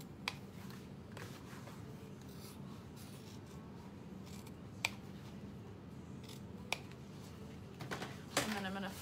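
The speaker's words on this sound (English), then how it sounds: "So I'm going to cut the center and then go cut it out at a V." Scissors cut sewing fabric for a satchel bag, with a few sharp, isolated snips and faint rubbing of cloth, close and quiet against a low room hum.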